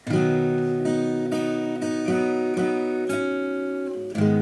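Acoustic guitar chords strummed in a steady rhythm, with a picked melody line ringing over them, close and clear with no talking.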